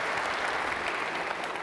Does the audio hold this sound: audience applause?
yes